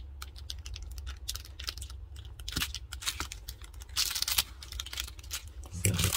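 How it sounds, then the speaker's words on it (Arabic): Case back being opened on a Seiko wristwatch, a run of close, sharp clicks, scrapes and small metallic snaps, with brighter bursts of friction toward the end. "نفتح الساعة ديت"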